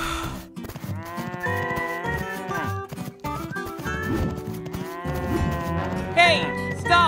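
Several loud, drawn-out cow moos follow one another with short gaps between them, close and prominent, with some other animal and background noise mixed in.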